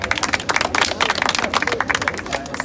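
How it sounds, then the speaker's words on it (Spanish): Audience at a Spanish-language rap battle applauding after a freestyle round: a loud, dense burst of clapping with crowd noise and scattered voices, sustained steadily throughout. "¡Un aplauso!"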